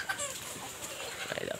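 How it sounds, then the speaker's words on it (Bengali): Chickens perched up in a tree cluck faintly in an outdoor farm setting, a few soft scattered calls against quiet background ambience. "এই দেখো গাছে সব মুরগিরা, শুধু গাছে সব মুরগিরা বসে আছে"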